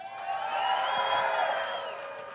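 A crowd at a Bassmaster Elite Series bass fishing tournament weigh-in at Lake Chickamauga cheers and applauds for the tournament director, a loud, sustained roar of voices and clapping that holds steady throughout.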